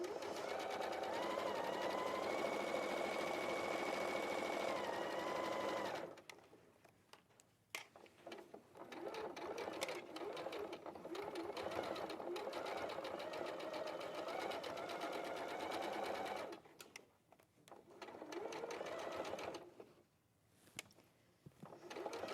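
Sewing machine stitching just inside a seam allowance at a high table, running in long steady whirring bursts with short pauses between them, close and fairly loud, with no talk over it.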